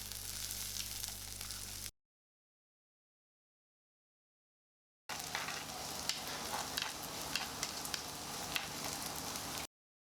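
Shallots, curry leaves and green chillies sauté in a hot pan for a coconut-based curry, giving a steady, close sizzle with soft stirring. The frying runs for about two seconds, stops for a silent gap of about three seconds, then resumes for several seconds.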